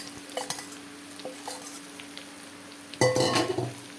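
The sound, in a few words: okra coated in spices frying and being stirred in oil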